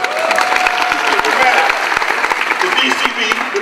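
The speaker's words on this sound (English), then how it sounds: "give them a round of applause." Audience applause with a few cheers fills a gala hall after a youth dance group, the Dramatic Coffee Beans from Lake City, South Carolina, performs; dense steady clapping continues throughout with some voices mixed in.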